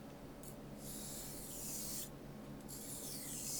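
An old Wusthof knife is sharpened with light strokes across a stone, giving a few soft, hissing scrapes of about a second each with brief pauses between them, close and quiet.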